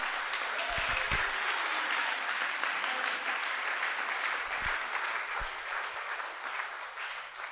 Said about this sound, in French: il faut remercier Dieu par des acclamations pour cette grâce